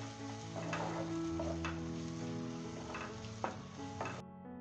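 Onions, tomatoes and masala sizzle steadily in a pan for a Kathiyawadi-style drumstick and potato curry, with a spoon stirring and pressing through the mix in soft scraping strokes.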